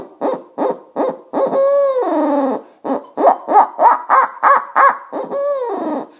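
A person blows into cupped hands to imitate an owl's hoot, giving a loud, close series of short rhythmic hoots broken by longer sliding, wavering calls.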